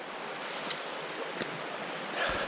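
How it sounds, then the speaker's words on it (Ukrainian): A mountain river in the Carpathians rushes steadily nearby, a dense, even wash of water noise with a few faint knocks and rustles on top, no voices. "Річка шуміть"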